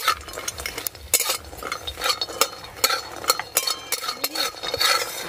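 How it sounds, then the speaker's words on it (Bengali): Bori lentil dumplings fry in mustard oil in a pan, a busy crackle with repeated sharp scrapes and clinks of a utensil stirring, close and fairly loud, with no talking. "সরিষার তেল, বড়িগুলো লাল করে ভেজে নেব"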